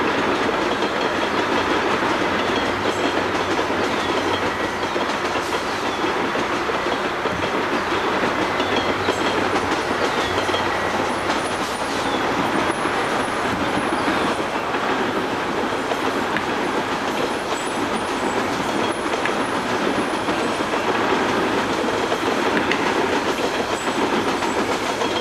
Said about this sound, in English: integrated trains would come into Keele Station